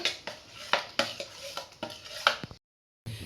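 Ground cashews are scraped and knocked into a kadai with a metal spoon, giving a quick series of bright clinks and taps against the pan before a short silence and one more clatter.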